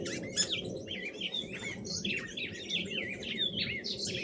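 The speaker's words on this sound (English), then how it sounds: "Bird fight, bird fight, bird fight, bird fight." Several birds squabble close by, trading rapid, overlapping chirps and sharp tweets throughout, over a low steady outdoor rumble.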